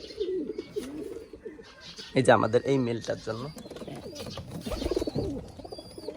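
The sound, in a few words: pigeons or doves cooing at a bird farm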